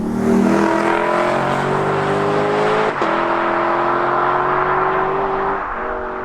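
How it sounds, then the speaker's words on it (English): A 2020 Lexus LC 500's V8 engine rumbles at low RPM while driving, a deep steady drone from inside the car that briefly dips mid-way and then resumes, easing off slightly near the end. "listen to that V8 rumble at low RPMs"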